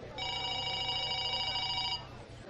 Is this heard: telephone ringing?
yes